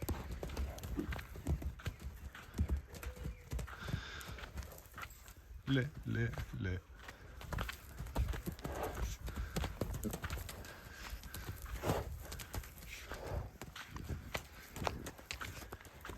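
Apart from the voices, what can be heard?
horse trotting with clip-clopping hooves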